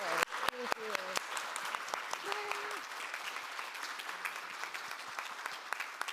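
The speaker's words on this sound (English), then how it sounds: "let's give a round of applause for our amazing artists today" An audience at a talk on contemporary responses to 19th-century photography applauds its artists, a moderate, fairly quiet spread of clapping hands that carries on steadily, with a brief voice near the start.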